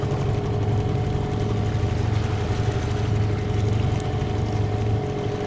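A motorboat engine drones steadily and close on a flooded river at sunset, a continuous low hum with no pauses and no voices.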